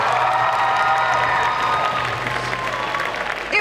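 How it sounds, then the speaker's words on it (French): Audience at a cosplay event's jury presentation applauds steadily, a dense clatter of many hands with a few cheers, fading slightly toward the end. "Je vous demande de les applaudir bien fort aussi."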